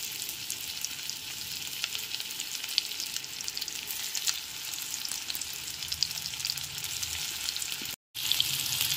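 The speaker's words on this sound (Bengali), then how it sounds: "সয়াবিনের টুকরোগুলোকে উল্টে পাল্টে ভেজে নেব।" Marinated soyabean pieces fry in hot refined oil in a wok, giving a loud, steady sizzle that runs without a break apart from one brief dropout near the end.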